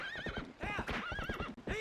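A horse in a twenty-year-old video game neighs with a rising whinny over steady clip-clopping hooves, loud and close throughout with no talk.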